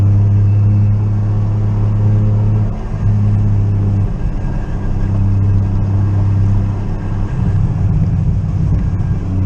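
A Lexus GS300 fitted with a big turbo pulls hard under acceleration, its deep engine rumble loud and steady from inside the car, with the pitch shifting as it climbs through the revs.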